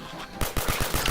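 Rapid gunfire rattles in Fallout 4 combat, about half a dozen close, loud shots in quick succession following a brief quieter lead-in.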